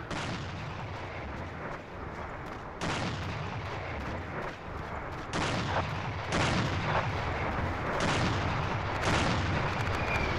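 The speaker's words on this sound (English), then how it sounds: "there's plenty of knee mortars being fired, it's just nobody's hitting oh, anything." Repeated knee mortar and artillery-style blasts fire in a Battlefield video game match, arriving as dense, rumbling bursts in several waves, loud and continuous with no talk over them.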